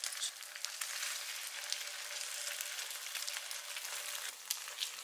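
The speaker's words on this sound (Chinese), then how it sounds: "如果喜欢吃香一点的话，咱们可以放在锅里面煎一煎" Homemade luncheon meat pan-frying in a wok gives a steady, dense hiss of sizzling oil close by, even throughout with a couple of faint pops and no talking.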